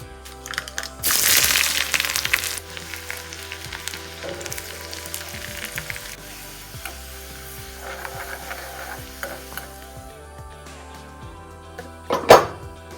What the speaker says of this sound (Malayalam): അതിലേക്ക് അല്പം വെളിച്ചെണ്ണ ഒഴിച്ച് കടുക് പൊട്ടിച്ച് ഉള്ളിയും കറിവേപ്പില ഇട്ടിട്ട്